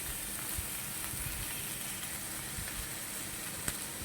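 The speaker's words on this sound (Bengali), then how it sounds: "তো পেঁয়াজগুলো একটু লাল লাল করে ভেজে নিই।" Onions sizzle steadily in a pan, a soft continuous frying hiss with faint crackles and one small pop, fairly quiet and close.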